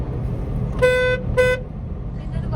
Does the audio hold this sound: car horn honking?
yes